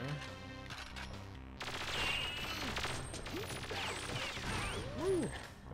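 Rapid automatic gunfire in Perfect Dark during the Pelagic II deep-sea mission, loud, dense bursts crackling near over game music and mechanical clatter, with scattered effects and voices mixed in.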